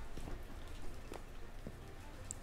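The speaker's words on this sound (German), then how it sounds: "Ich mag das nicht, wenn es regnet." Rain falling in the video game Minecraft, a steady soft hiss of drizzle with a few faint scattered taps and clicks, continuous and low throughout with no talking.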